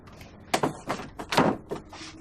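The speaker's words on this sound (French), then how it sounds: "Elle a verrouillé sa porte." Interior apartment door being locked: a quick series of clicks and thunks from a handle and bolt, fairly close and loud, with no one speaking.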